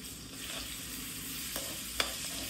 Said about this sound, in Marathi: मग त्याच्यानंतर आपल्याला मीडियम गॅसवरतीच लसूण टाकायचं आहे